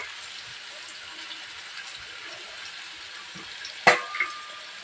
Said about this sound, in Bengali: দিয়ে কোচানো পেঁয়াজটাকে ভালো করে ভাজতে হবে